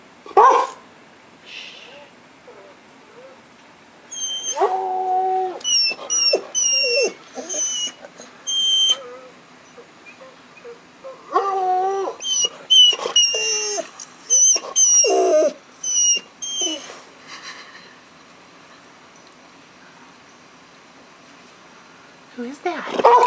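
A pet dog named Rufus barks and yips indoors in short bursts over several seconds, close and fairly loud, mixed with whimpering, while a person talks to it.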